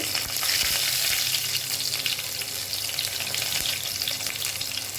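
Garlic hits hot oil with mustard seeds already in a pan, giving a steady loud hissing sizzle with small crackles and pops throughout, close and continuous without any voices.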